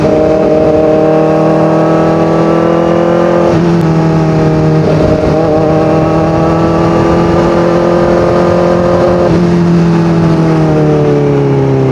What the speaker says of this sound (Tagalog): Sarap talaga magmotor dito.